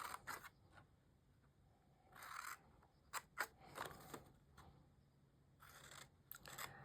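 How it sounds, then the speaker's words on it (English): Scissors snip through patterned Graphic 45 craft paper along score lines while a treat box is being made. Close, crisp cuts come in short bursts with quiet gaps between them. "We're going to cut up each of these score lines."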